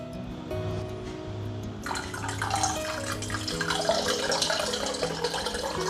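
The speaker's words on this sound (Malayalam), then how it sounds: "ഇനി നമുക്കിതിലേക്ക് കുറച്ചധികം തന്നെ വെള്ളം ചേർത്ത് കൊടുക്കാം" Water poured into curd in a clay pot, a steady splashing pour that grows brighter and fuller partway through, close and alone.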